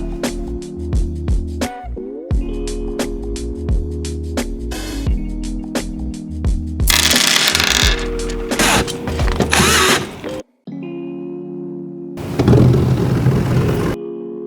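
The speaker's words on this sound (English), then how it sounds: "we need just to screw this panel to our internal cut" A power screwdriver drives screws to fix a masking aluminum profile onto a ceiling access panel, with loud bursts of whirring and ratcheting clicks broken by short pauses and handling knocks.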